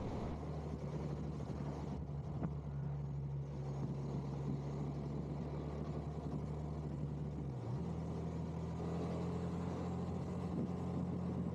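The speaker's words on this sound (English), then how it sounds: "The exhaust note on this is lovely." Husqvarna Svartpilen 401 motorcycle exhaust droning steadily while riding, a continuous low engine note with one brief dip in pitch partway through, close and fairly loud with no talk.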